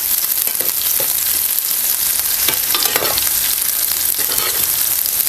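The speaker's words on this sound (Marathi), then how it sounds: "आता कांदा घातलेला आहे तर आपण यांना चांगलं असं परतून घेऊया" Chopped onion sizzles steadily as it is sautéed in a pan for a gram-flour and onion vegetable dish, with repeated scraping stirs close up and no talking.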